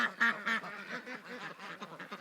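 Ducks quack in a large flock during a summer heatwave, several nasal calls close together at first, then softer, overlapping quacks continuing at a moderate level with no talking.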